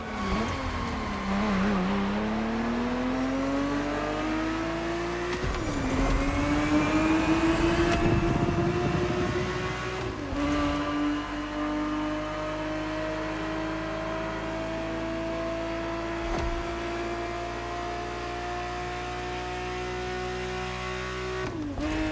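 Ferrari 365 GTB4 engine in The Crew Motorfest racing game, a loud steady engine drone that rises and falls with gear shifts and acceleration throughout, with no talk.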